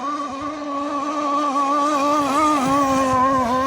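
A motorboat's engine runs steadily on the water for the whole stretch, a loud close drone with a strong harmonic hum whose pitch wavers slightly as the throttle shifts, with no talking over it.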